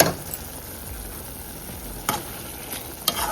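Coriander stems, tamarind and rock salt sautéing in a pan for chutney: a continuous hissing sizzle broken by a few crisp stirring scrapes near the end.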